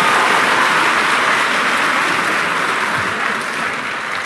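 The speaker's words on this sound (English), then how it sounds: "A mighty hand clap of praise." A church congregation at a Sunday service claps loudly and continuously, a thick, even roar of hands that stays strong for the whole stretch.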